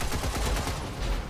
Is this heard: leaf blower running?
no